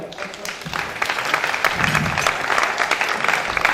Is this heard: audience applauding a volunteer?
yes